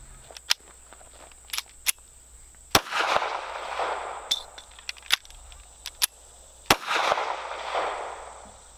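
A Taurus Spectrum pistol fired at a range, giving scattered sharp single shots at irregular intervals with echoing tails, mixed with small clicks and handling noises between rounds.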